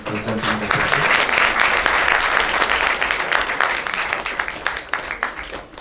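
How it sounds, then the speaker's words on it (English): A lecture-hall audience at a medical university symposium claps steadily in dense, sustained applause that holds near and loud for several seconds before thinning and tapering off toward the end. "Another round of applause for me also for keeping the time management absolutely got on time."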